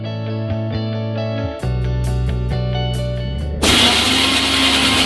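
Mixer grinder grinding coconut for a brinjal and bean kuzhambu, a steady motor whine that shifts pitch partway through and then turns into a loud, harsh whirring roar as the blades churn the contents.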